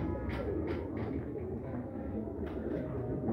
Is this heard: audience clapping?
no